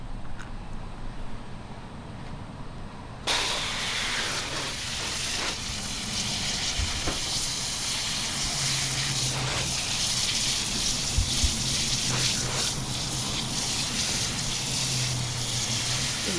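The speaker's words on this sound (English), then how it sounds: "Here to rinse out another t-shirt for you." A tie-dyed spiral scrunch t-shirt is rinsed under running water, a steady broadband gush that starts abruptly after a few seconds of quiet and continues with small splashes and shifts.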